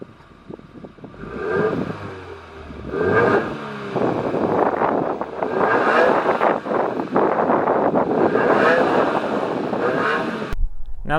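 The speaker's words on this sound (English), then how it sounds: "let's go to the back and get a nice 4-cylinder exhaust clip." A 2017 Subaru WRX four-cylinder exhaust burbles and revs close to the microphone in repeated surges, with wind buffeting, before stopping abruptly at the end.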